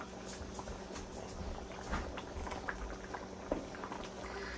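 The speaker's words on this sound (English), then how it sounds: "Oh, it's bubbling, y'all." A seafood sauce bubbles as it reduces in a pot, a soft steady simmer of small pops and gurgles, close and alone without talk.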